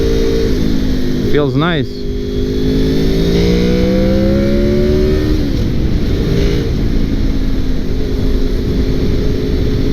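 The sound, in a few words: 2002 Honda VFR800 motorcycle engine switching over while accelerating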